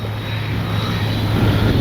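An OV-10 Bronco radio-controlled model plane drones steadily overhead, its engine a sustained, fairly loud hum with no talk.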